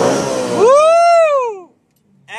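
BMW M car engine revving hard toward an 8,600 rpm redline, a single loud rising and falling howl that climbs, holds near the top and drops away into silence, with a brief burst of noise at the end.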